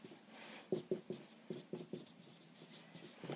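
A pen scratches across a surface in close, quiet strokes, with a run of short rhythmic scribbles followed by softer continued writing.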